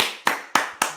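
Four sharp, evenly spaced claps ring out close and clear, each with a short decay, with no talking in between.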